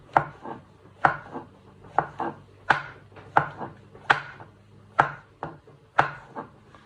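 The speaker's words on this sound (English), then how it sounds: "and then slice it really small" A kitchen knife slices mushrooms on a cutting board in steady, evenly spaced knocks, roughly one and a half cuts per second, close and clear with no talking.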